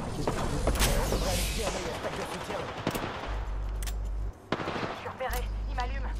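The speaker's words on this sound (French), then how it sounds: "Ah, il se fait tirer, il est là-bas." Automatic gunfire from an Apex Legends match in loud, dense bursts with sharp cracks, sustained over a low rumble and continuing almost throughout, briefly dropping out near the end while players talk underneath.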